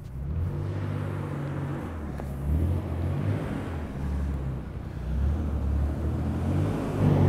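Nissan 300ZX sports car engine running nearby, a steady low rumbling idle with slight swells in loudness, continuous and moderately loud.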